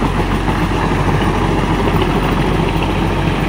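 A Mahindra 575 Tech+ 4WD tractor of 47 hp pulls a rotavator in first gear at medium speed, around 1500 RPM. Its diesel engine drones loud and steady throughout, with a deep low rumble and no voices.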